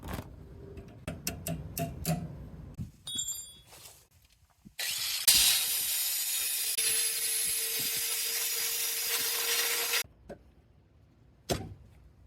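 A ratchet works loose the power steering lines on a Nissan 300ZX Z31 Turbo, with a few sharp clicks and scrapes early on, then a long steady hiss of air or fluid lasting several seconds, then brief clatter.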